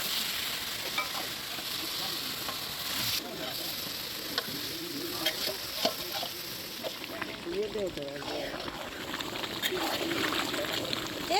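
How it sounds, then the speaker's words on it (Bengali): Mutton sautéed in a pan with spices gives a dense, continuous sizzle broken by frequent scraping stirs, loud and close, while a voice talks over it. "এবার মাংসটাকে খুব ভালো করে কষিয়ে নিতে হবে"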